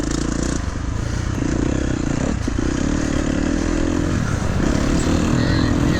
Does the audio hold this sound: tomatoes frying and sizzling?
no